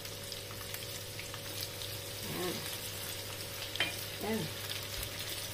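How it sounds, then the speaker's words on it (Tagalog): Two large shrimp fry in hot oil with a steady close sizzle and crackle, a few louder pops rising over it, and a brief spoken word near the end. "Nilagay po ako ng dalawang hipon na malaki. Okay. Sarap po yung iprito."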